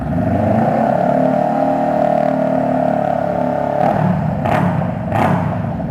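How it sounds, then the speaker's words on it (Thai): A 2017 Honda Rebel 500 motorcycle with an aftermarket exhaust idles with a steady, loud exhaust rumble, then revs sharply twice in quick blips near the end. "เดี๋ยวมาฟังเสียงท่อคันนี้กัน"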